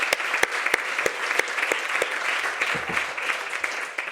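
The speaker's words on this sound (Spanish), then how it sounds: "yo os pediría por favor un aplauso para todos ellos porque han sido magníficos." Audience applause at the closing session of a compliance congress, steady dense clapping filling the room with a few sharper claps standing out near the front.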